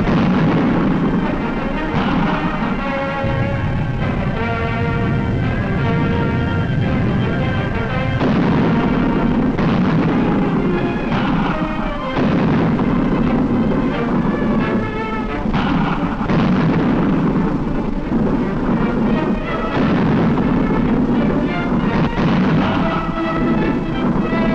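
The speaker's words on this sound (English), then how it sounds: "Two mortars go into action to clear out enemy infantry." Mortar fire and explosions in a WWII Canadian Army newsreel: repeated heavy booms and blasts roll across the whole stretch under a narrator's voice and dramatic music.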